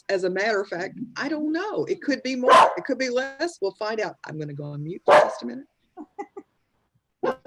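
A dog barks in short sharp bursts behind someone speaking on a live online panel, the yaps punctuating his talk and a few faint barks continuing after his voice drops away.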